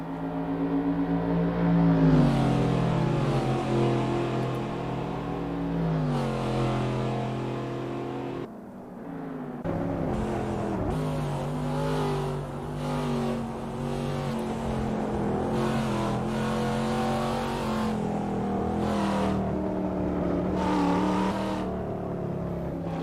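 A race car engine in a racing video game during a qualifying lap at Canadian Tire Motorsport Park, loud and continuous, rising through the revs and dropping sharply on each gear change and braking zone.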